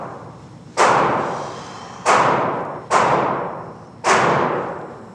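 Four sharp firearm shots ring out at a shooting range, each a loud close crack followed by a long decaying echo, spaced irregularly about a second apart.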